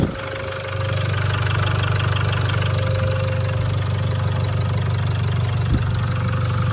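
A Land Rover Discovery Sport's Ingenium engine runs at a steady idle, with the camshaft carrier and top timing chain refitted. A close, continuous low rumble and knock starts after a brief lead-in and continues without talk.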